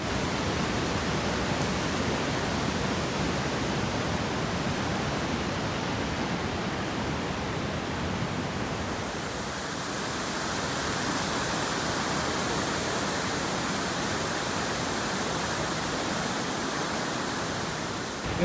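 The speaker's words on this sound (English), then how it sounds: "Oh, look at this waterfall." A waterfall on the Harrison Lake loop roars as a dense, steady wash of rushing water, loud and unbroken, shifting slightly in tone partway through.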